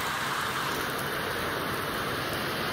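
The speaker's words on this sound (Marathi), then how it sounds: "पाऊस इतका पडतोय की काहीच विजिबल नाही आहे सगळीकडे" Heavy rain pours down outdoors in a dense, continuous broadband roar with no pauses, loud and close, filling the whole space.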